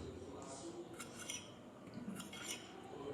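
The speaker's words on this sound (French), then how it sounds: "Une fois que vous avez coupé tout en vertical, vous allez commencer à couper en horizontal." A knife slicing horizontally through a tomato, giving a few faint, quick cutting taps and clicks against a board.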